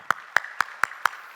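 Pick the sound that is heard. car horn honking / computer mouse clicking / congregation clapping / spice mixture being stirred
congregation clapping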